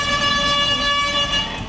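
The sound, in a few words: bus horn honking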